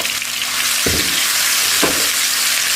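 Cloves, cardamom and star anise sautéing in a pan as a spice base for beef rib soup, a steady close sizzle with two brief scraping stirs, no voices.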